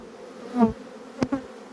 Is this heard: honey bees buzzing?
yes